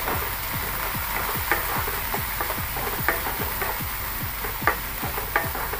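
Sliced capsicum, cut lengthwise, is stir-fried in a pan for chicken kothu chappathi, with a steady close sizzle broken by regular scraping stirs about twice a second.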